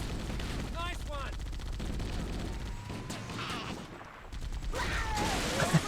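Gunfire in the video game Halo Combat Evolved VR: bursts of rapid automatic shots and booms over a game soundtrack, with in-game voices shouting between volleys.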